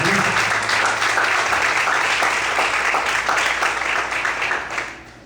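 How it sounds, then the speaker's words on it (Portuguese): A church congregation applauds together, a dense, sustained roar of many hands clapping that fades out toward the end. "Você pode desocupar a sua mão e aplaudir em nome do Senhor Jesus."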